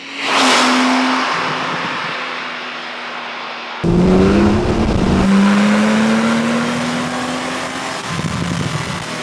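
A 2016 Porsche 911 Turbo S Cabriolet's 3.8-litre twin-turbo flat-six revs hard and roars up through the gears, loud and close, with a brief cut before it accelerates again.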